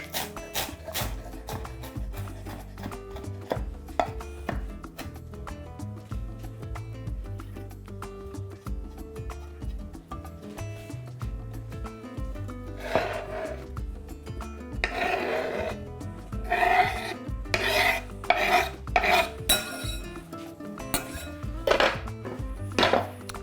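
Dill being chopped on a board for a cold beetroot soup, quick knife taps in irregular bursts that grow louder and denser toward the end, with clinking kitchenware.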